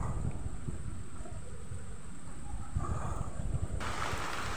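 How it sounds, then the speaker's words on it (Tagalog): Typhoon wind roars steadily against the microphone in a low, continuous rumble, with faint hissing texture above it and no voices. "Lakas ang hangin."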